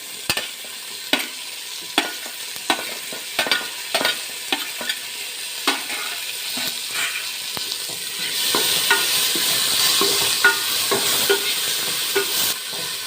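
Tomatoes fry in a pan with browned onions for Malenadu-style mutton sukka, a steady sizzle broken by repeated sharp scrapes and clacks of stirring, swelling into a louder, denser hiss in the final seconds.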